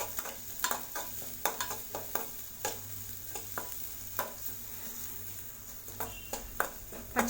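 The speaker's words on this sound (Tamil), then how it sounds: "பச்சை மிளகாய் எண்ணெய் நல்லா வதங்கிருச்சு" Green chillies sauté in hot oil for masala sundal, giving a steady sizzle broken by scraping stirs of a spatula against the pan, close and fairly quiet, with no talking.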